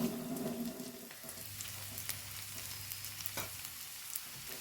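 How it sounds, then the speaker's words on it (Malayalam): Onions with turmeric powder sautéing in a pan, a soft continuous sizzle with a few light stirring scrapes, quiet and close, no talk. "കുറച്ച് മഞ്ഞൾപ്പൊടി ഇട്ട് കൊടുത്തിങ്ങനെ ഇതൊന്ന് വഴന്ന് വരട്ടെ"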